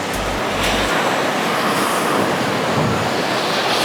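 Surf at Miramar Beach washing in as a steady broadband roar, loud and continuous throughout, with heavy wind buffeting the microphone and a brief low rumble near the start.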